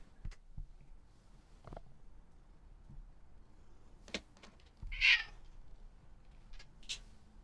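A cat gives a single short, faint meow near the middle of an otherwise quiet room, among a few soft knocks and thuds.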